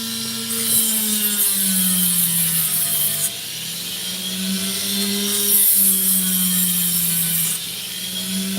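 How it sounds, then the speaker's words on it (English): An opal stone has its back ground on a lapidary wheel, a steady whirring drone with a rising and falling pitch, interrupted by brief shifts where the stone is pressed and lifted, close and continuous. "Then I just grind the back."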